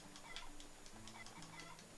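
Chickens cluck softly on a farm in the video game Trails in the Sky, quick faint clucks repeating over a low, steady game soundtrack.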